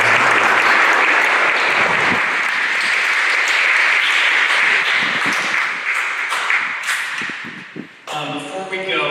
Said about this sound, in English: if we could have one more round of applause for our design and illustration students